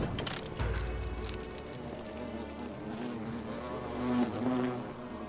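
Insects buzzing in The Forgotten City game, a close, continuous droning hum that swells and fades over a steady low background, with a louder burst near the end.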